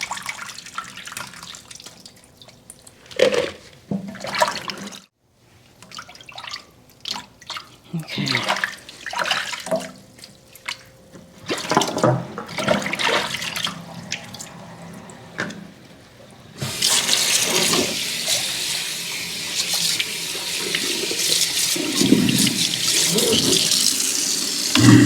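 Washed roselle calyxes drain in a colander at a kitchen sink, giving intermittent trickles and splashes that turn into a steady, fairly loud hiss of running water for the final stretch.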